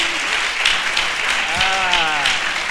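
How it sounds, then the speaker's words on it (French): Crowd applause at a French-language gathering, a steady broadband wash of clapping with a brief high vocal tone rising over it partway through. "On acclame encore plus fort que ça."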